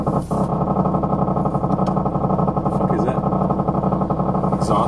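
A lowered Honda RSX on coilovers drones steadily on the street, its exhaust buzzing and rattling in a continuous rough hum close to the microphone, while people talk over it.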